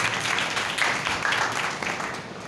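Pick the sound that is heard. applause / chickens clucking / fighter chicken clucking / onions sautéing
applause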